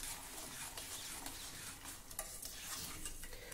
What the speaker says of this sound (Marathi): गुळ विरघळेपर्यंत सतत थोडं ढवळत राहा